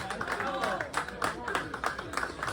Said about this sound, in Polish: Wielkie brawa proszę Państwa!